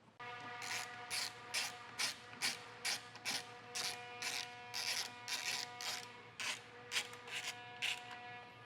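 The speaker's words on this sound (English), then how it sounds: "we have a T30 Torx bit, so we'll go ahead and get that screw taken out" A power driver with a T30 Torx bit backs a screw out of a 2023 Jeep Grand Cherokee taillight area, sounding as a steady run of short, rapid buzzing bursts that pulse roughly twice a second over a constant whine.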